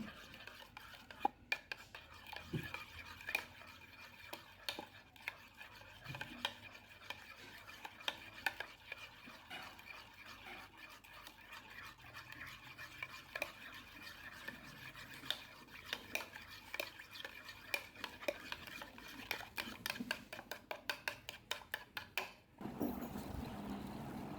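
A sugar mixture for a crisp pitha is stirred until the sugar dissolves, producing continuous quick scraping and clinking of a utensil against the bowl, fairly quiet and close-up, with no speech.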